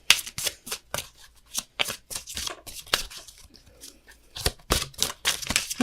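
Tarot cards are shuffled and drawn by hand, a run of quick papery riffles and snaps in irregular bursts, close and fairly soft, with no voices.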